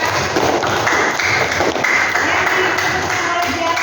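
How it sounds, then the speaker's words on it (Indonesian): A classroom of students claps during a history lesson, a noisy patter of hands close by that runs unbroken and steady for the whole stretch, with no talk over it. "Oh iya, tepuk tangan ya."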